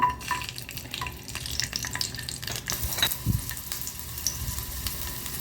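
Garlic frying in oil in a kadai makes a steady close sizzle throughout, with scattered stirring scrapes and clinks and one sharp knock near the middle.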